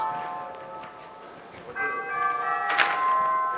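A single memento bell struck once at a keynote address, ringing out with a bright metallic tone that lingers and fades over a quiet background.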